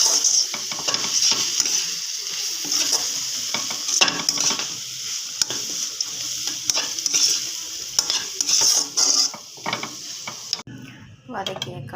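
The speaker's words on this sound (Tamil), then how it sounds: "காஞ்ச புதினா போட்டு வதக்கிக்கிறேன்" Vegetables sautéing in a pan with dried mint and chili powder for vegetable rice: a steady sizzle runs throughout, broken by frequent close scraping stirs and spoon knocks against the pan, ending with a brief quieter pause.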